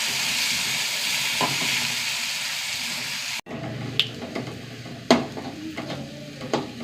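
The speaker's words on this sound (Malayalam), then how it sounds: "ചെറിയുള്ളി നന്നായി മരിഞ്ഞ് നല്ലോണം മൂത്ത് വരണം." Sliced shallots and curry leaves frying in hot oil for a fish curry, a dense steady sizzle that drops abruptly partway, then gives way to quieter crackles with a few sharp utensil clinks and scrapes nearby.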